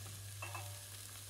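A faint, steady sizzle of chopped cauliflower frying in olive oil in a pot over medium heat, with a low constant hum underneath.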